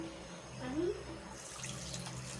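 Water poured into a pan of sugar in a kitchen, a short pour near the middle of the clip over steady background noise with faint talk.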